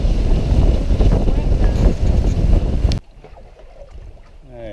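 Strong wind buffets the microphone out on Lake Powell, a loud steady roar with a boat-like rumble for about three seconds before dropping abruptly to a quieter, fainter gusty background.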